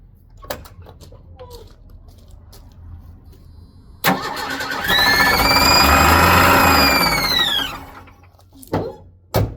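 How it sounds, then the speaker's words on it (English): A 1984 Ford F-250 truck engine being restored cranks and catches at about four seconds, then runs loud and rough with a revving whine for several seconds before dropping back down. "Yep, she started. Didn't sound very good in the engine, a little bit of noise"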